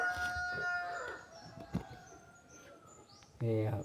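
Chickens cluck and call in a farmyard where banana trunk is being chopped for feed. A rooster crows close at the end over faint background noise.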